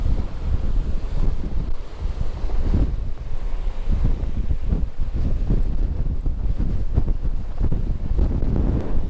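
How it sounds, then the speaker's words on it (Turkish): Strong, steady wind roaring across the open deck of an 83,000-ton bulk carrier ship, buffeting the microphone with gusts and a low rumble throughout. "Şimdi baş tarafa doğru yaklaştıkça rüzgar artıyor."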